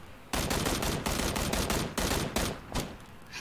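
Rapid automatic gunfire from a PUBG match rattles out in dense, loud bursts with brief gaps, several volleys close together and no voices.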